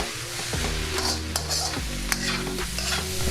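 Pork fried rice with oyster sauce being stirred in a hot pan: steady sizzling frying with scraping stir strokes and a few sharp utensil clinks against the pan, close and moderately loud.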